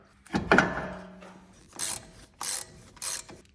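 A ratchet clicks in three short, close bursts while tightening a brake caliper bolt on a car, following a louder mechanical clunk at the start.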